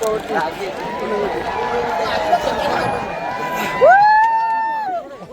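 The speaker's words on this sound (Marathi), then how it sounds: "बकासूरसाठी एवढी गर्दी झाली" A large crowd at a bullock cart race cheers and shouts in a continuous, dense roar, with excited voices and whoops rising near the end.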